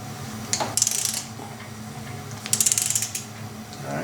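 Two short bursts of rapid ratchet wrench clicking on a bolt of a Mercedes M117 engine, close and crisp, separated by a quiet pause.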